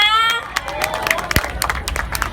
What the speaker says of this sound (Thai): ขอเสียงปรบมือให้ประธานหน่อยค่ะพี่น้องค่ะ